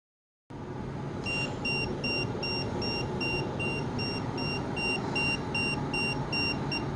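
Steady electronic beeping from an EMF meter reacting to an anomaly at a reputedly haunted location, a repeating high-pitched pattern that starts soon after recording begins and continues over constant background noise, with no talking.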